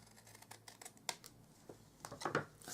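Paper trimmer or scissors cutting card stock for a die-cut thank-you card, giving a few faint, close snips and slicing strokes, the last ones slightly louder.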